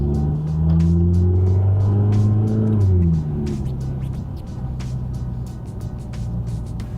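Cold car engine idling and running at low RPM, a loud close rumble with a few gentle rises and falls in pitch before settling into a steady lower drone, with faint clicks above.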